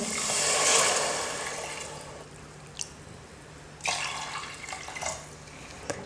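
Two tumblers of water run and splash steadily into a pot for tomato rice, loudest at the start, then thin to a trickle with a few clinks and drips.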